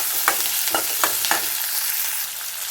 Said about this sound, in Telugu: ఉల్లిపాయలు వేగాలి, అందులోనే కరివేపాకు కూడా ఉంటుంది.